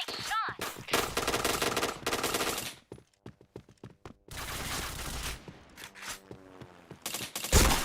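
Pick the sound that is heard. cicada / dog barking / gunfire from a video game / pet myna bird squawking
gunfire from a video game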